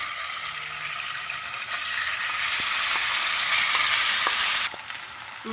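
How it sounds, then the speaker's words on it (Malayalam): Marinated chicken fries in hot oil in a pan with a loud, steady sizzling hiss that builds slightly and then drops off near the end, with occasional light clinks of stirring. "നമ്മൾ നേരത്തെ മാരിനേറ്റ് ചെയ്ത് വെച്ചിരുന്ന ചിക്കൻ ഒന്ന് നമുക്ക് ഫ്രൈ ആക്കി എടുക്കണം"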